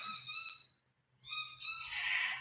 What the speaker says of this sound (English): Can you hear the bird outside?